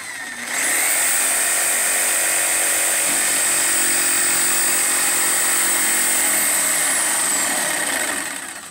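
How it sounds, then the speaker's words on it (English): A jigsaw cuts wood with a close, loud, buzzing whine. The motor spins up and runs steadily for about eight seconds, then winds down slightly at the end, with no talking. "when you cut in a straight line, do not wiggle the jigsaw at all"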